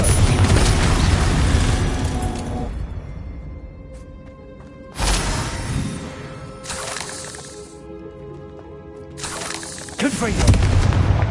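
Spell explosions from the Confringo blasting curse in the video game Hogwarts Legacy: three loud booming blasts, each bursting suddenly and then ringing out into a decaying tail before the next one hits.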